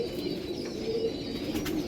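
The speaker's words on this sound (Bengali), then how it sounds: "দেখুন পায়রা" Pigeons coo steadily nearby, soft low burbling calls overlapping continuously with a faint background hum.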